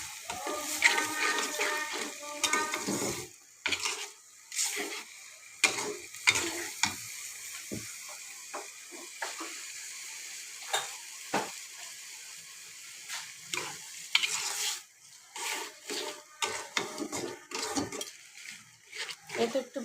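Turmeric frying with dal in a pan makes a faint sizzle under busy, irregular stirring and scraping, with clatter clustering early and late and a voice speaking at times.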